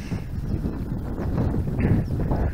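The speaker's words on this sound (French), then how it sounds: "Là il y a un vent de face." Strong headwind blowing at an outdoor fishing spot, buffeting the microphone in loud, low, gusty rumbles that rise and fall continuously, heard alone without talk.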